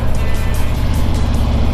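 A Harley-Davidson motorcycle engine rumbles loud and close with a steady low throbbing idle, no voices.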